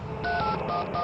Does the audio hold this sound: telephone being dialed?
yes